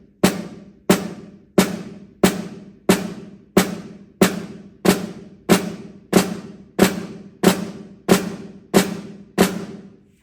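Drumsticks play a steady run of quiet flams, fourteen evenly spaced double-stroke hits about every 0.7 seconds, each a soft grace note tucked just ahead of the main stroke with a short decaying ring, close and alone.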